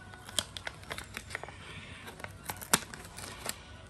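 A handful of sharp, crisp snips of scissors cutting a $1 bill, irregularly spaced and close up, with faint crinkling between cuts and no talking.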